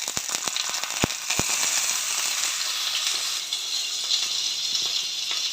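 Potato pieces fry in a small amount of oil, giving a steady close sizzle with a few sharp crackles and pops near the start and no voices.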